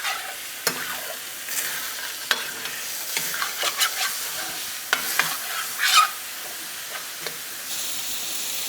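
Ground beef sizzles in a pan, a constant close frying hiss broken by scraping spatula stirs and small pops, with no talking.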